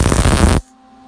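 A small 110 V welder crackles and buzzes loudly at close range while welding a custom Y-pipe for long tube headers on an 82-92 Camaro, then cuts off abruptly, leaving a faint hum.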